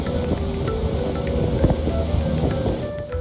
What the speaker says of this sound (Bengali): কুমিরা থেকে সন্দ্বীপে স্পিড বোটে যেতে ২০ মিনিট সময় লাগে